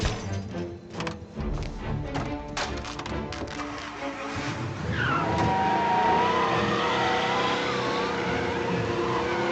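Car engine in the video game Mafia Definitive Edition, revving and accelerating steadily with rising pitch, loud and close, with brief clatter and skidding-like bursts early on and no talk.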